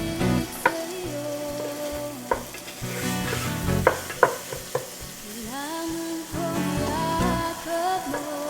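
Onions sautéing in a pan hiss beneath repeated sharp clanks and scrapes of a utensil stirring, with intermittent tonal background sounds layered over the sizzle.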